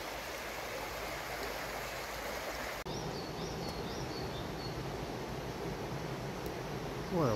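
A small suburban micro stream flows with a steady, close rush of water throughout, with faint bird calls rising briefly above the continuous burble.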